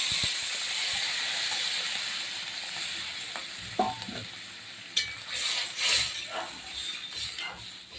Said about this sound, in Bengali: এবার আমি পরিমাণ মতো জল দিয়ে দিই